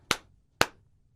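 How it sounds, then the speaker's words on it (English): Two crisp, separate hand claps from children in a warm-up ring out half a second apart in a quiet room, each sharp and short. "If you hear me, clap once. If you hear me, clap twice. If you hear me, clap thrice."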